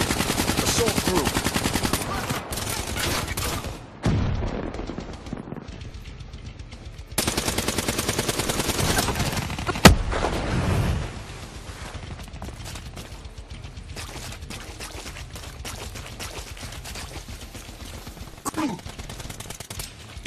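Sustained automatic gunfire from a shooter game, loud continuous bursts of rapid fire with brief pauses and a sharp single crack partway through, under occasional clipped radio-style callouts.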